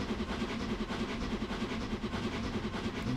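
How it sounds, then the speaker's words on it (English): The Flying Scotsman steam train runs in the Train Simulator game on the Fife Circle Line, a steady rumbling rail noise with rhythmic clickety-clack beats rolling on continuously without pause. "just looking at the beautiful sight of Flying Scotsman going past"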